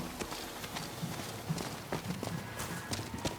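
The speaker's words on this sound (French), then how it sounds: "Ton cheval est à l'écurie." Horse hooves clip-clop softly in the video game Ghost of Yotei, with a few scattered, uneven hoof strikes at low volume over faint ambient background.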